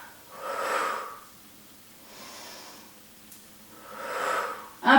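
During a Pilates exercise, slow audible exhalations come in a steady rhythm, each a soft breathy push of air, close by and with no talking.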